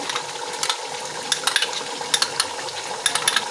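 Yogurt-based gravy hits a hot pan for makhan karahi and cooks with a loud, continuous sizzle, broken by irregular clinks and scrapes of a spoon stirring.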